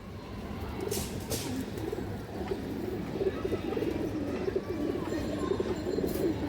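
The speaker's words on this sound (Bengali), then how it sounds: "সুপার ফ্লাইয়ার কবুতর" Super flyer pigeons coo steadily at a farm, several low throaty calls overlapping in a continuous murmur, fairly close, with no one talking.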